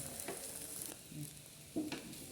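Bread omelette frying in a pan, a soft steady sizzle with a few scraping stirs and one louder clatter near the end.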